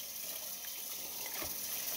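Tap water runs steadily in a kitchen sink while dishes are washed, a continuous close hiss and gush with a brief splash partway through.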